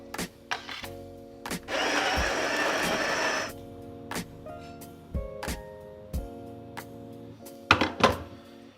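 Espresso grinder purging stale old grounds, a loud steady grinding burst of about two seconds amid clicks and knocks from handling the machine, with a low hum underneath.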